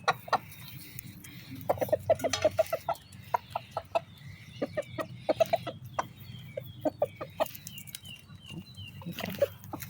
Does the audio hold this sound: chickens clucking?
yes